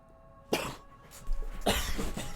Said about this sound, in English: Sorry, I'm coughing again.